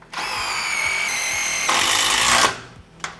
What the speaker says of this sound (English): With our impact driver, we shoot one short tech screw straight through the joist.